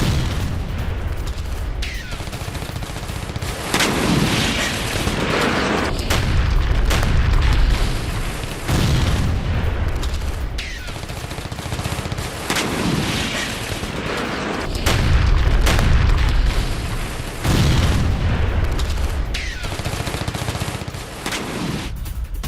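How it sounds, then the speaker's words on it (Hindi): Repeated heavy booms from FAB-500 bombs dropped on Donetsk, several deep blasts with rumbling aftermath, loud and sustained over ongoing crackling like distant gunfire, no talking. "रूस का यूक्रेन पर फैब 500 बम से जोरदार हमला"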